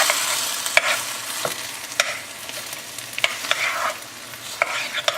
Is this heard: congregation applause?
no